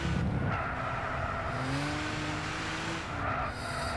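BMW M4 tyres squealing through a tight corner in Gran Turismo 6, a sustained engine drone with rising and falling skid tones over several seconds, steady and fairly loud.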